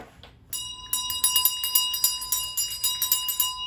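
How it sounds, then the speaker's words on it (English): A handheld bell rings repeatedly in quick, bright strokes, steady and fairly close, with no talking. "Can't you hear that I'm ringing the bell?"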